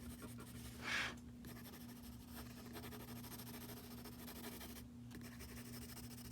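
A pencil lightly shades on paper, barely touching it, making a faint, steady scratchy hiss close by, with one brief louder stroke near the start over a quiet hum.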